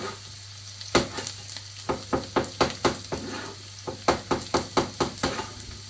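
Onion cooks in oil in a pan beside a pot of boiling water, a steady low sizzle broken by a run of sharp rhythmic knocks and taps, close by with no talking.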